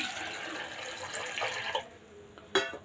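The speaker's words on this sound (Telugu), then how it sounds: "ఇందులోనే ఇప్పుడు నీళ్ళు వేసుకుని మనం ఈ పప్పు ఉడకబెట్టుకుందాము" Water runs and splashes into a pot of chana dal for a couple of seconds, then stops, followed by a brief clink near the end.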